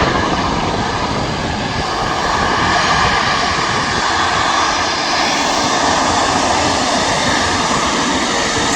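Jet engines of an Airbus A350 at Manchester Airport, a loud, continuous broadband roar that stays steady and close for the whole stretch with no voices.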